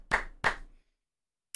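A couple of quick, loud bursts of hand claps, then silence and one last faint clap.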